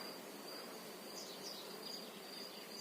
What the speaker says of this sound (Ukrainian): Але ось ранок і бджоли беруть русу.